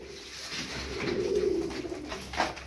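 Ankara tumbler pigeons coo nearby, a low, soft rolling call swelling in the middle, with faint background noise and a small bird sound near the end.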